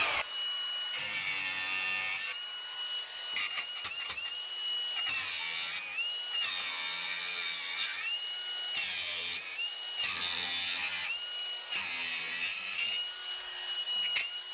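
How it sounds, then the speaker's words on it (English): A grinder cutting off old nails left in rotted structural framing during a header replacement, with repeated loud, harsh bursts of high-pitched grinding and whining, separated by short pauses, close up, no talking. "we'll just go through and grind off all these nails that are left hanging"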